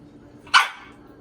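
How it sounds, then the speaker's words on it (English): A 4-month-old puppy gives one sharp, close bark in a quiet kitchen during pie making, alone with no talk. "this is my 4-month-old puppy barking at me right now"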